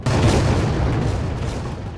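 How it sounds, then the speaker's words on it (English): Explosions in a Roblox camping game, a loud sustained booming roar with heavy low rumble filling the whole moment, no clear separate blasts. "What's with the explosions?"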